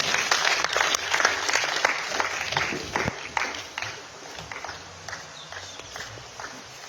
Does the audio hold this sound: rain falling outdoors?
no